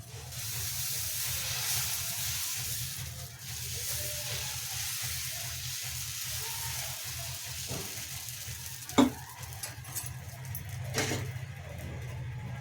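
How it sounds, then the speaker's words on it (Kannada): Oil and ghee sizzle steadily on a hot dosa tawa, a continuous frying hiss with a few sharp crackles and pops near the end, no talking. "ಎಣ್ಣೆ ತುಪ್ಪ ಎರಡು ಬಿಸಿ ಮಾಡ್ಕೊಂಡ್ಬಿಡ್ಬೇಕು."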